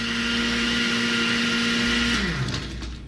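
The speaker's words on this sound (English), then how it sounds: "now Marcus, what is the correct way to blend a margarita as far as a blender goes?" A blender running steadily at close range as it crushes ice for a margarita, a continuous motor whine and grinding churn that then winds down and slows near the end.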